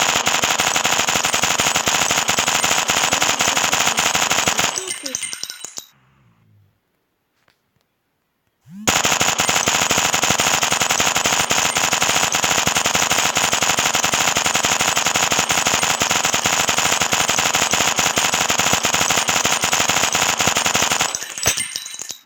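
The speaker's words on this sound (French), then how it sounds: "On a tiré 200 balles." Rapid gunfire from the mobile shooting game i Gun Pro, a dense uninterrupted stream of 200 shots, loud and continuous, breaking off briefly into near silence before resuming at the same relentless pace.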